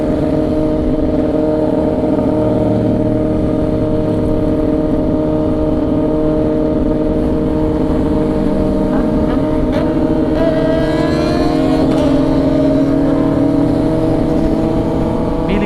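Loud, continuous Kawasaki ZX-10R motorcycle engine drone at close range from the rider's position, with wind roar, pitch shifting slightly as the rider accelerates.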